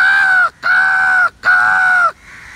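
Crows in a tree give three loud, drawn-out caws in quick succession, each separated by a short silence, close by and alone.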